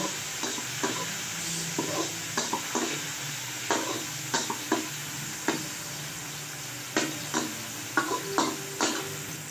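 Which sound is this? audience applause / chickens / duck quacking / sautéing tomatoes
sautéing tomatoes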